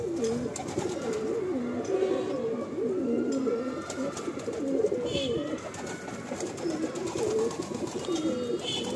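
Several pigeons in a loft coo continuously in overlapping, rolling phrases, close and moderately quiet, with faint rustling around them.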